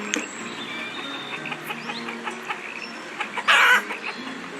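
Chickens cluck in the city-building video game Banished, a string of small close clucks and chirps with a brief louder squawk near the end, over a soft ambient game background.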